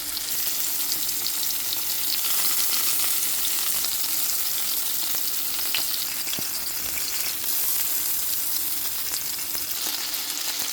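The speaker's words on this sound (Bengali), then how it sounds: "অবশ্যই সরষের তেল দিয়ে ভাজা করবেন" Eggplant and tomato fry in mustard oil with a dense, steady sizzle and crackle that runs unbroken throughout, with small pops scattered through the hiss.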